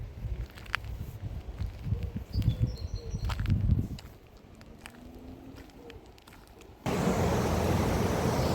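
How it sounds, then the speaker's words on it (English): Water rushing down into the River Douglas along the Leeds Liverpool Canal near Wigan, a broad steady hiss under footsteps and rustling, growing louder and fuller toward the end. "Hear the noise here, the water going down again into the River Dougie."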